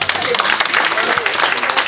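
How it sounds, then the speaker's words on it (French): Guests at a 60th birthday celebration applaud the honoree: brief, dense clapping at close range, with a voice heard over it. "Merci de l'applaudir s'il vous plaît."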